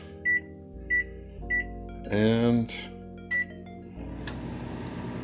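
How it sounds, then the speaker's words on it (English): A microwave oven many years old, with a waveguide cover, hums steadily at close range after a few short setting beeps, and a voice speaks briefly over it. "I'm going to put it in my microwave that is many years old."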